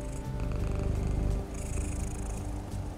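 A voice imitates a cat purring, a steady low rumbling purr held for about three seconds with a brief break near the middle, close and fairly loud with no talk.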